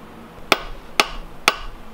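Three sharp metallic hammer blows, evenly spaced about half a second apart, strike a transmission center bolt and flange, loud and close with brief ringing between hits.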